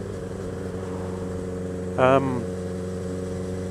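A Yamaha XJ6F motorcycle idles steadily with a low, even engine hum, then a short rev with a burst of exhaust popping rises briefly before the idle settles again; a voice is briefly heard.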